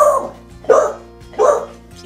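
A dog barks three times in a steady rhythm, each bark loud and close, with short quiet gaps between them.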